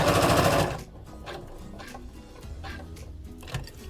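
A sewing machine stitches the corner of a lined couture patch pocket, a short burst of fast, loud whirring followed by a few slow, separate stitch clicks close up.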